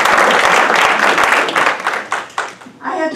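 An audience claps and applauds at an indoor church-style gathering, a dense, fairly close burst that thins out and tapers over a few seconds while a voice speaks over it.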